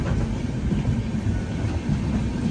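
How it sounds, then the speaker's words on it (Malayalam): A train rumbles past a station in a steady, continuous low roar with faint rhythmic clatter, heard close from aboard an AC express train, with no voices. "ആ ട്രെയിൻ പോയി, അതിനവിടെ സ്റ്റോപ്പുണ്ട്."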